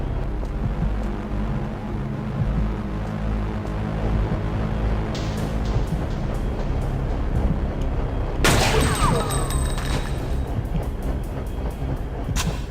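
Gunfire in the video game Fear Effect: a loud, steady rumbling bed of action sound, then sharp repeated shots and impacts cutting through in a rapid volley toward the end.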